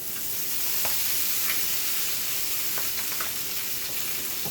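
Green onions frying in a pan beside seared salmon, a steady close hiss of sizzling oil with a few light clicks of stirring.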